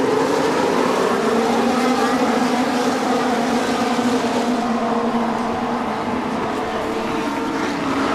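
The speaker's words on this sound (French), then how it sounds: "Et un bon départ des deux McLaren avec Verstappen." Formula 1 cars roar away at a race start in the rain at the Australian Grand Prix, a dense, steady wall of engine noise with spray hiss and no break, loud and close throughout.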